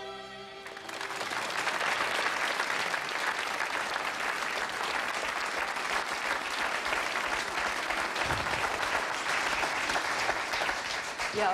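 A studio audience bursts into applause to welcome violinist David Garrett on a talk show, a dense, continuous roar of clapping that holds loud and even for several seconds.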